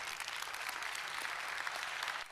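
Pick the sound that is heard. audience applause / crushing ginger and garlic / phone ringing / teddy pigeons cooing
audience applause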